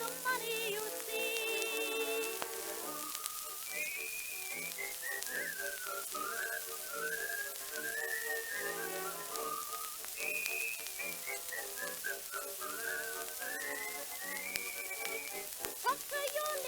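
A whistled melody from a song on a vintage-sounding radio broadcast, a clear bright tune of rising and falling phrases carried over steady crackle and hiss, with a soft backing accompaniment.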